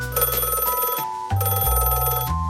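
A single sharp telephone bell ring, loud and close, with a brief metallic break partway through before the ringing resumes.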